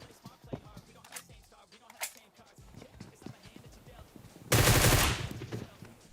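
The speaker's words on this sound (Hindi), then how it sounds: "मैं हर बार कवर से बाहर जा रहा हूँ, थोड़ी गोली चला रहा हूँ और वापस आ जा रहा हूँ" Gunfire in the PUBG Mobile game, scattered short shots and bursts among game noise, followed by a loud dense burst of rapid fire lasting about half a second, with no talk heard.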